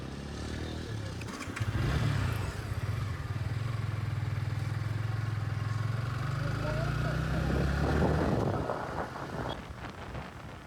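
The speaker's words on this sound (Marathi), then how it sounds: "टी ब्रेक नंतर आपण आपली राईड आणखी स्टार्ट केली आहे" A motorcycle rides on through the rain on a monsoon trip to Matheran, its steady engine drone buried under heavy wind buffeting on the microphone, with no voices over it.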